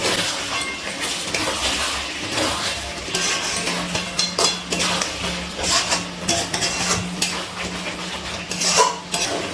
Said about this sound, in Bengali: এবারে খুব ভালো করে নাড়াচাড়া করে মিশিয়ে নিচ্ছি।